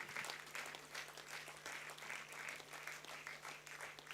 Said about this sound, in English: Come on, your applause has to get bigger and bigger